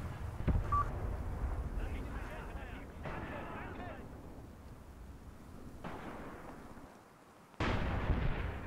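Anti-tank guns firing in the tank battle game Graviteam Tactics: repeated booming shots and sharp reports over a steady rumble of battle, with a loud blast near the end and a person talking over the fighting.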